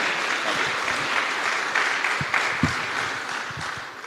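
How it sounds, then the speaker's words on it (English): A conference audience at a tourism session applauds two presenters, producing a steady patter of many hands clapping that holds at an even level, with a few louder individual claps near the end. "Please, warm round of applause for Pedro and for Michael"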